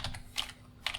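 Typing JavaScript code on a computer keyboard: three quick clusters of soft, close key clicks within a second, recorded quietly with no voice over them.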